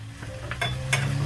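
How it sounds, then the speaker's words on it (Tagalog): Eggs are whisked in a bowl with a few quick, scraping strokes at close range, some soft sizzling going on in the background. "babatihin natin yung itlog"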